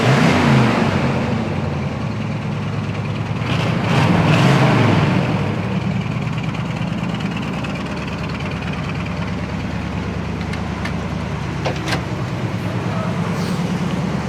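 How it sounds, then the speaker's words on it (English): A 1979 Camaro Z28 on a test drive, a steady low engine drone with road and wind noise, a brief rise in revs early on, then cruising evenly at moderate volume. "Today we're going to be doing a walk around and test drive on this 1979 Camaro Z28."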